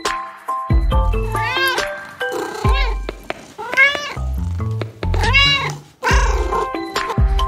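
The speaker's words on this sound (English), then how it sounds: "The cat purrs." A cartoon-style cat meows in a series of bright, rising calls with short pauses between them, loud and close, over a light musical backing; the purring is not clearly distinct.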